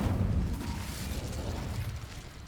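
A fire spell being cast in the Hogwarts Legacy game: a loud, low rumbling whoosh of burning flame that sustains and slowly fades across a couple of seconds.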